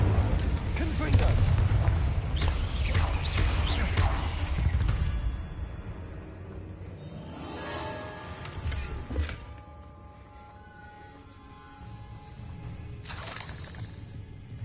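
Fiery Incendio and explosive Confringo spells cast in Hogwarts Legacy: dense crackling bursts and booming impacts, then quieter sparkling tails and a final burst, with a voice speaking over the effects.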